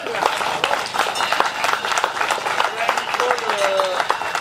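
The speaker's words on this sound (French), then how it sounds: "Et il faut les applaudir, ces jeunes." An outdoor crowd at a departmental Salers cattle show claps for young handlers, a loose scattered patter of hands with voices talking underneath.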